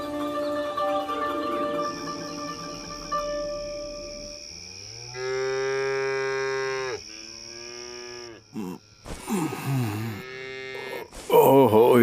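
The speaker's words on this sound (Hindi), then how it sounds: "ये तो गाय भैंसों की रांभने की आवाजें हैं" Cows and buffaloes moo loudly at night in several long, drawn-out calls, one after another at close range, with some overlapping noise between them.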